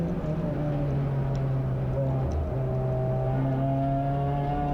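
A Fiat 500 race car's engine drones steadily as it powers out of a corner at Anglesey circuit, with a sustained mid-pitched note that shifts in pitch partway through, heard from a distance.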